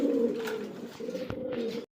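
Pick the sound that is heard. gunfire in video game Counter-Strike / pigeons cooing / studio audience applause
pigeons cooing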